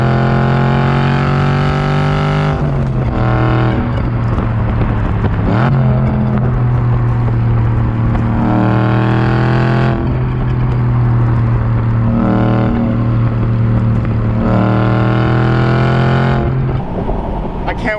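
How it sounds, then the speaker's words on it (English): A straight-piped Aston Martin V8 grumbling at around 3,000 RPM in third gear, a loud, deep, continuous exhaust rumble rising and falling with light throttle blips, with a voice heard over it. "you got a real engine, a real V8 behind it, and it just grumbles"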